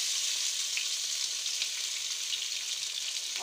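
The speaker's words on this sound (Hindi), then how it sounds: "फ्राई करने के बाद मसाला ऐड करेंगे और उसको भूनेंगे।" Stuffed tinda sizzling as it fries in ghee with masala, a steady close hiss and crackle throughout with no talking.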